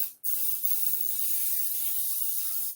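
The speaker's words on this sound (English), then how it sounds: "Just spray the other side because who knows what could happen." Oil spray hisses onto a Griswold cast iron pan in one long, close, continuous burst after a brief first spritz, alone without talking.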